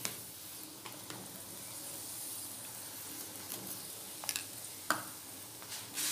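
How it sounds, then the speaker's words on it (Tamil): A beetroot paratha fries on a hot pan with a steady soft sizzle, broken by a few brief sharper crackles and pops near the end. "அந்த சைடும் நல்லா ஃப்ரை ஆகட்டும்"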